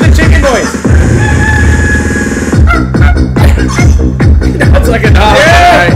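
A person imitates a chicken with rhythmic clucking and crowing-like vocal bursts, loud and close, repeated over several seconds amid a rowdy drunken livestream with other voices.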